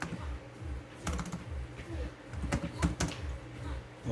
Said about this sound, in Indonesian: I just want to test this keyboard.